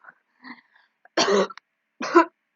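Two sharp, dry coughs from one person, spaced almost a second apart, each preceded by faint throat noises in an otherwise silent room.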